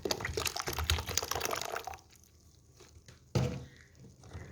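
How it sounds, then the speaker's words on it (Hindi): Peach pulp and water pressed through a kitchen strainer for homemade peach squash: a close, wet sloshing rush that stops, then another brief splash after a short pause. "स्ट्रेन करते वक्त इसके अंदर 2 गिलास पानी और मैं ऐड करूँगी"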